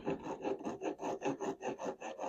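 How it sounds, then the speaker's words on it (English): A hand rasp files around the curved edge of a wooden oud tail block, giving steady rhythmic scraping strokes, about five per second, close and evenly loud with no talk. "I am just using my rasp to file"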